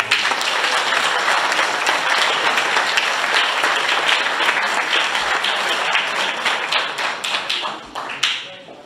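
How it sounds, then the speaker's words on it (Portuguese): A live motivational talk audience in Portugal gives a hearty round of applause after a musical interlude, dense and loud clapping for about eight seconds before thinning out into a few scattered claps and a thump. "Acho que merecem uma grande salva de palmas"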